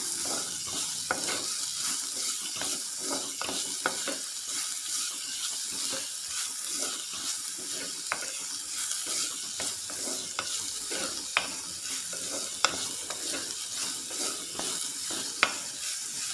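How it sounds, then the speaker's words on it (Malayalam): Sliced onions frying in a pan for a brinjal dish, a steady sizzle broken by soft scraping clicks of a spoon stirring at irregular intervals, close and moderately loud with no talking. "സവാള നന്നായിട്ടൊന്ന് മൂത്ത് വരണം."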